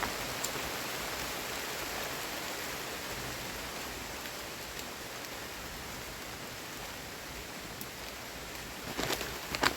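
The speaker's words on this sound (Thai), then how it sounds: "มีฝนกำลังตกนะครับฝ่ามืดฝ่ามัวเลย กำลังตกเลยนะครับ" Heavy rain falls in dark, stormy weather as a dense, continuous hiss, with a few sharper patters of drops near the end.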